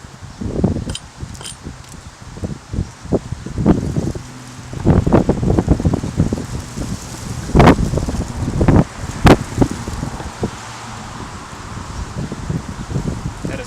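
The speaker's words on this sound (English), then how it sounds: "All the wind right now." Wind buffets a microphone outdoors during fine axe work, a rumbling gusty wash broken by irregular knocks and taps that flare and fade through the scene.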